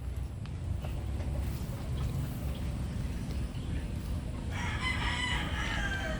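A Mitra Blue gamefowl rooster crows outdoors, its call rising over steady background rumble and clucking from other fowl, with a brighter burst of crowing near the end.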